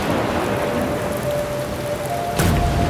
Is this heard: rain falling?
yes